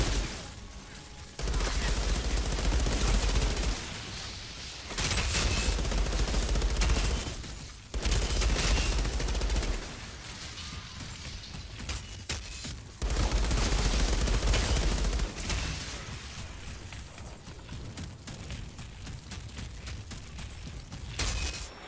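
Gunfire in the video game Outriders, with bursts of loud sustained shooting in several blocks separated by brief pauses.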